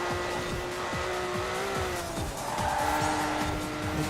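A Ferrari Testarossa in Forza Horizon 4 roars steadily at close range, its engine note rising and falling through gear changes while tires squeal and skid in bursts throughout.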